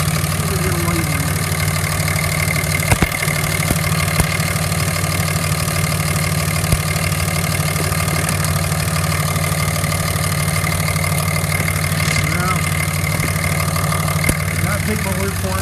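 A Cummins 24-valve diesel engine with a newly replaced turbo oil pressure line idles in a shop. Its steady, loud, low rumble runs throughout without letting up.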